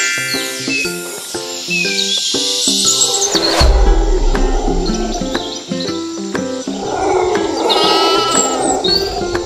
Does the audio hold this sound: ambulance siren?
no